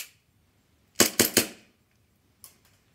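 Airsoft Beretta M92 gas blowback pistol fires a quick three-round burst of sharp, loud cracks, followed by a fainter single click after a pause.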